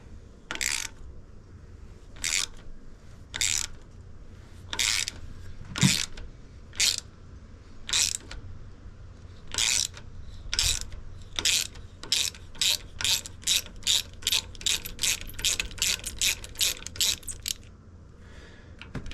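Ratchet wrench removing bolts from the alternator on a Craftsman riding mower with a Kohler engine, clicking in short bursts that start spaced out and speed up into quick, close repeated strokes.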